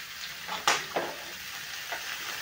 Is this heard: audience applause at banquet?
no